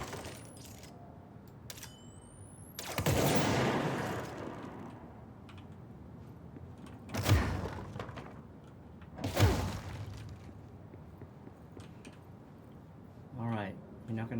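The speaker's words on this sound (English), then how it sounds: "Wow, that's a pretty powerful weapon" Powerful weapon fire in the video game Control, a few loud broadband bursts spaced several seconds apart, each with a short decaying tail, over faint background game ambience.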